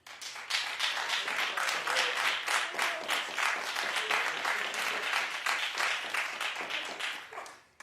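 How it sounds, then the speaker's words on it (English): A television talk show studio audience applauds, dense and continuous clapping from many hands lasting several seconds, loud and close with no break. "Clap if you don't love OJ."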